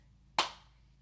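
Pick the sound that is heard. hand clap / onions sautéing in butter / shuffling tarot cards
hand clap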